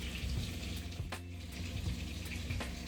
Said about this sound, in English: I washed my lemon.